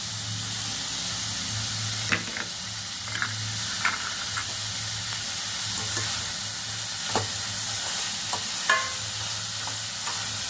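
About ten cashews frying in a pan with onion for carrot rice, a loud continuous sizzle under steady low hum, with occasional utensil scrapes and clicks as they are stirred, no talk.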